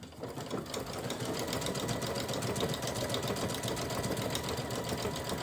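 A sewing machine fitted with a circular stitching attachment runs continuously, its needle producing a fast, even mechanical rattle close up.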